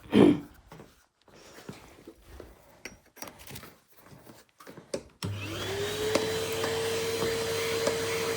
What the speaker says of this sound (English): Let's vacuum the top of this one.